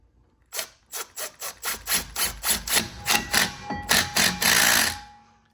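Brake rotor retaining screw being driven back in on a 2023 Camaro LT1 with drilled and slotted rotors, a run of about a dozen evenly spaced ratcheting clicks building to a brief continuous whir, close and alone.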